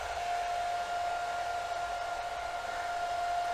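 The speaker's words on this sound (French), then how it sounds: "Un dernier coup de sèche-cheveux pour parfaire à la beauté de la volaille." A hair dryer blows a steady, even whine with a high tone while finishing the presentation of a trussed Bresse poularde, continuous and fairly close throughout.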